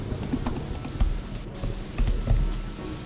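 Rain in the city-building game Kingdoms and Castles, a steady pattering wash with soft low rumbles, continuous and moderately loud with no talking.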